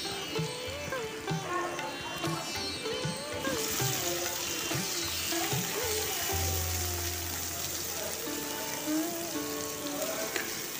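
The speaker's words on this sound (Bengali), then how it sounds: "এই যে নুন হলুদ মাখানো ছিল এটা আমি এখন দিয়ে দিচ্ছি, দিয়ে এটা ভালো করে দু মিনিট ধরে নেড়ে নেড়ে এটাকে আমি ভেজে নেব।" Pointed gourd pulp mixed with salt and turmeric frying in a pan, a steady close sizzle with occasional stirring scrapes and a low hum in the background.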